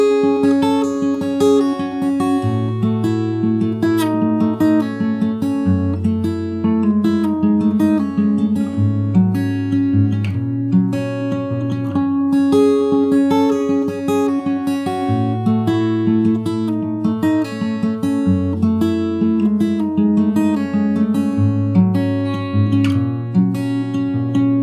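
Fingerstyle acoustic guitar plays a full progression alone, steady picked melody over bass notes, loud and close with no talking.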